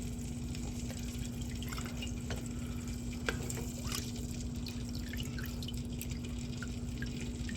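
Hot rendered tallow is ladled into heated glass jars, giving soft dripping, pouring and stirring sounds over a constant low hum, with occasional faint clinks of the ladle against glass.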